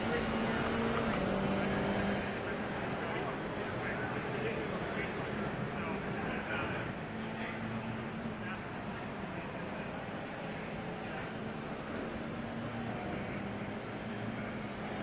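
Racing simulator game car lapping a circuit through the final hairpin and down the backstretch, engine droning steadily at moderate volume in the background beneath continuous commentary.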